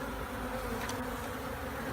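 Dense honeybee buzzing during a live bee rescue near Tampa Bay, Florida, a faint, steady drone from many bees close by with no voices.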